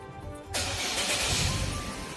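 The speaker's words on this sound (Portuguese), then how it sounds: "Eu vou dar partida no motor" A car engine cranks and catches about half a second in, jumping from a quiet idle-off background to a loud, steady running roar that holds to the end.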